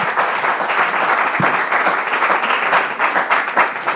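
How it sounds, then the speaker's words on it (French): An audience claps for the first results at a competition final, with dense, sustained applause in which individual claps stand out, staying fairly loud throughout. "Est-ce qu'on peut applaudir déjà les premiers résultats?"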